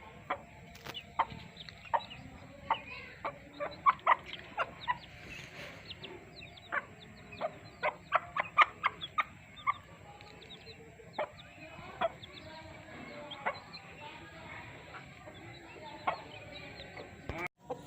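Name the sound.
hen with newly hatched chicks clucking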